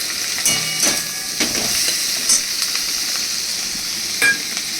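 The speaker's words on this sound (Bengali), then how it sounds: "এবার এর মধ্যে আমি দিয়ে দিচ্ছি এই টমেটোটা।" Tomato dropped into hot fish oil sizzles and fries steadily, a close hissing crackle with a few louder spits and stirring scrapes, no voices.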